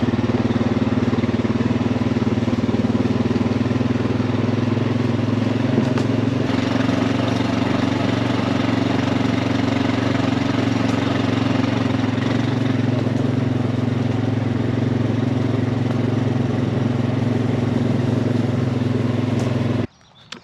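An ATV engine running steadily on a food plot, a loud continuous low drone with a constant pitch throughout before it cuts off at the end.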